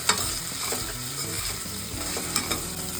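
Onion frying in a pan for paneer pulao, a steady close sizzle with scraping stir strokes and a few sharp knocks against the pan, no voices.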